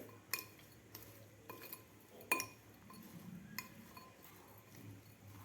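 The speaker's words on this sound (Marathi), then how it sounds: "आता व्यवस्थित आपल्याला हे मिक्स करून घ्यायचं आहे" A spoon stirring roasted makhana chaat with salt and chaat masala in a bowl, giving a series of irregular clinks and taps against the dish over a faint background hum.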